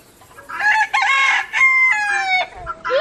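A rooster crows loudly and close by, with two or three drawn-out, strained calls in quick succession and brief gaps between them, heard alone without talking.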